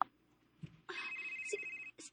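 A mobile phone rings in a Cebuano radio drama, a bright electronic ringtone with a sustained tone and short chirps, fairly close and clear after a few quiet knocks.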